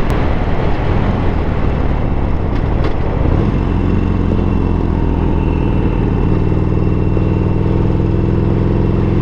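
A Harley-Davidson 72 cruiser rides down a highway, its engine droning loud and steady under heavy wind rush, with a gear change partway through and a lower, smoother rumble afterward.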